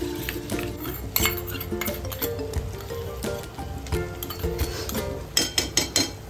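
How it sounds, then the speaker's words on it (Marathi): Curd for paneer bhaji whisked in a bowl with a spoon, a busy run of quick metallic clinks and scrapes that grows faster and sharper near the end, close by with no talk. "इथे दही अशा प्रकारे आपण फेटून घेऊया।"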